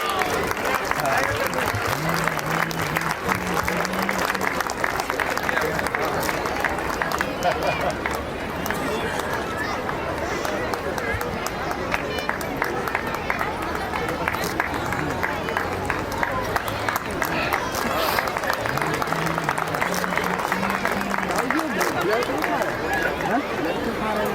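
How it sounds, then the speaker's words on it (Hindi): A crowd claps continuously at a school prize distribution at Ramana Public School in Raipur, with a dense, steady patter of hands. Voices and background chatter run underneath throughout. "तालियां बजाते रहिए।"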